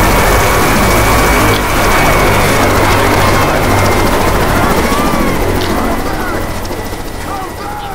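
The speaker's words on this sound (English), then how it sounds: "Chopper looks like he's heading to the evac center." Helicopter rotor drone from the Left 4 Dead 2 game, a steady loud whirring wash that fills the whole stretch and eases slightly near the end, with voices talking over it.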